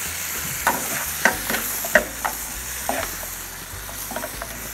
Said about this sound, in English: I stir all together.